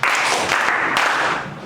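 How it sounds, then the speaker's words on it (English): Children in a classroom clap together in a short, dense burst of applause that tapers off after about a second and a half. "Very good. Clap for him."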